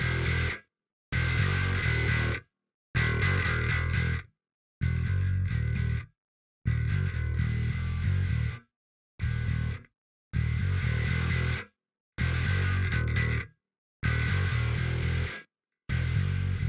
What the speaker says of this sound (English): Let's check the mid distortion now.